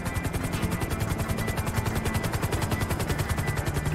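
Helicopter rotor from GTA V with a Vice City overhaul mod, a steady loud rhythmic chop with dense low thumping pulses throughout, sounding close and continuous with no talk over it.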